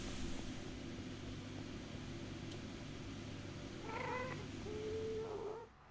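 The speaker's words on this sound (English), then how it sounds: "I'm pretty sure it's just cat noises." In the Minecraft video game, a cat gives a couple of brief meows and a drawn-out yowl toward the end, fairly faint over a steady low background hum.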